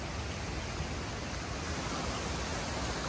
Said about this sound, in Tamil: பக்கத்துல இந்த மாதிரி தண்ணி ஓடுது